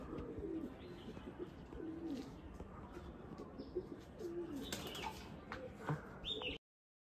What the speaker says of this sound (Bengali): তো নাইট ট্রেনিং করব বলে কিছুক্ষণ আগেই ছেড়েছি পায়রাকে